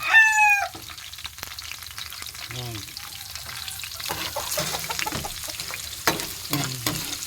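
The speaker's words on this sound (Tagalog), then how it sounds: "Gisa-gisa muna tayo." Pork sizzles in a pan with garlic, onion, chili and ginger, a steady frying crackle broken by a few stirring clatters, while a rooster crows intermittently in the background.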